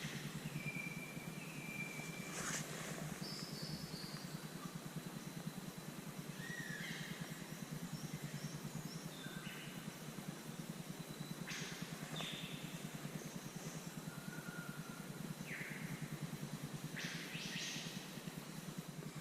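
A lyrebird sings varied phrases, mimicking other birds and noises, including sharp whistles and noisy mechanical-sounding bursts, over a steady background hiss, some calls near and loud.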